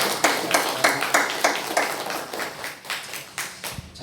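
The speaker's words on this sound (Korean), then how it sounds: "많은 분들께 우리 박수로 격려해 주시기 바랍니다" A church congregation at a Sunday worship service claps in scattered, uneven bursts, several distinct hand claps forming a thin, moderately close applause that tapers off after a few seconds.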